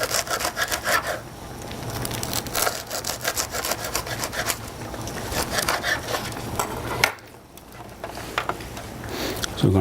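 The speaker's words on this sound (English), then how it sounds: "When cutting a crusty bread, or any bread for that matter, it's always good to use a serrated knife." A serrated knife saws steadily through crusty bread, a close, rhythmic rasping scrape repeating in quick strokes, with a brief pause near the end.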